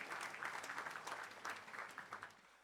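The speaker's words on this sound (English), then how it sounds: "Shall we do a big round of applause ahead of time before we go ahead?" Audience at a law school honours ceremony applauding steadily, a moderate round of clapping with uneven swells, heard at some distance and fairly quiet, with no talking over it.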